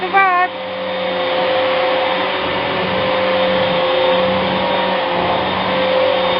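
A vacuum cleaner hoovering a room with a white German shepherd nearby, a loud continuous motor whine and airflow hum that starts after a brief shift in pitch and holds steady throughout.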